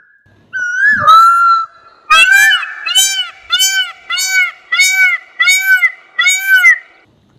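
A peacock gives a run of loud, harsh, nasal calls, about seven of them repeating in a steady rhythm with short gaps.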